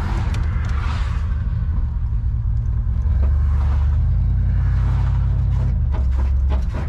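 Car driving on the road with a partly blown tire whose tread has come off, producing a steady loud low rumble and road roar with a dragging, rhythmic undertone throughout, no voices.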